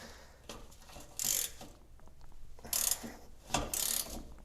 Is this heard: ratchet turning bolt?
yes